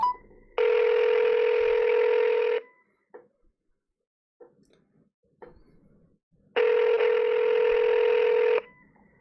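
A phone call to a real estate brokerage: two long, loud ringback tones separated by a quiet gap with faint clicks, heard alone and close.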